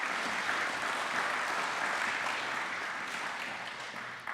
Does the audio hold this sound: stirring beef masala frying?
no